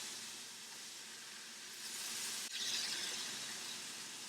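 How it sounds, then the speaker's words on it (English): Skin-side-down chicken sizzles loudly in a big skillet for Asian-style hot chicken, a close, continuous hiss that swells slightly midway. "make sure you put it skin side down, and that's the sizzle that you're looking for right there"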